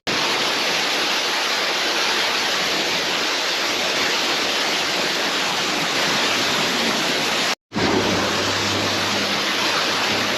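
Loud, steady roar of a waterfall in Jamaica, a dense broadband rush that fills the clip with a brief cut near the end before resuming.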